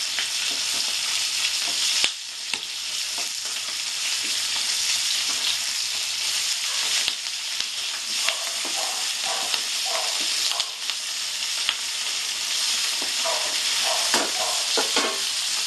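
Bata fish, a sweet freshwater fish, frying in a pan with a loud, dense, continuous sizzle and hiss, nearby, broken by a few brief clatters and a sharp scrape as the piece is turned.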